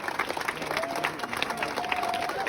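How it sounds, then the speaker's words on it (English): Clapping from a protest crowd at a rally over George Floyd in Southern Maryland, a dense steady patter that goes on throughout under scattered voices and a faint tonal hum. "Keep clapping, keep clapping, keep clapping."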